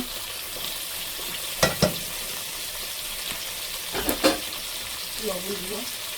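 Food frying in a little oil with turmeric and salt gives a soft, steady sizzle, with a few sharp clicks and scrapes from stirring.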